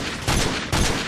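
Two heavy bursts of video game gunfire rattle out in a close firefight, each a dense roar lasting about half a second, loud and with no talk.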